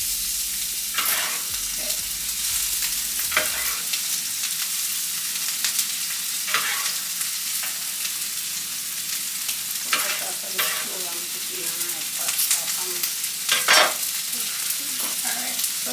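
Garlic and pepper frying in about a tablespoon of olive oil in a hot pan, a steady close crackling sizzle broken by occasional louder scrapes and pops from stirring, with no voices.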